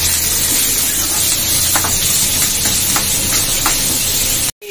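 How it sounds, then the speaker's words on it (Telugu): Beans frying lightly in a pan with curry leaves and chopped green chillies give a steady close sizzle and hiss, with a few soft stirring scrapes partway through and a brief cut near the end. "లైట్ గా వేయించుకుంటున్నాను బీర్నీస్"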